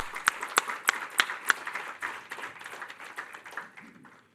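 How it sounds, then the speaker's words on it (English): A small audience at a family forum celebrating a 30th anniversary claps in a sparse round of applause, a few sharp distinct claps at first that soften and thin out. "let's take a moment for a round of applause for that"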